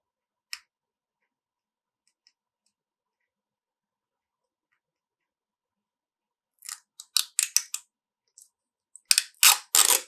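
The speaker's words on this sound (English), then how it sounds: "I'm going to peel off these layers." Layers come off a building sheet for a Disney dolls house, heard as crisp, close crackling and tearing bursts in short clusters after long quiet gaps, with one isolated snap near the start.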